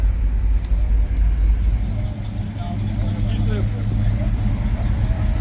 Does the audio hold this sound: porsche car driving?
yes